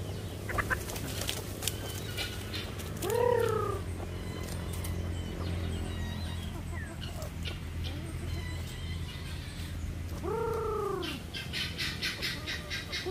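Chickens in a backyard flock give two short, loud squawking clucks a few seconds apart as someone tries to catch them, over steady low background hum with faint rustling.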